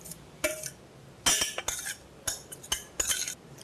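A spoon stirs vegetable stuffing with lemon in a metal pot or bowl, giving sharp, close, irregular clinks and scrapes in short bursts with quiet pauses between.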